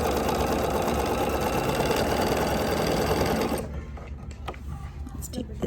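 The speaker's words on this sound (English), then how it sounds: "So we're going to sew on this piece right here" A sewing machine stitching a quilt triangle piece, running in one loud, steady mechanical whir for several seconds before it stops abruptly, leaving a quiet room with faint clicks.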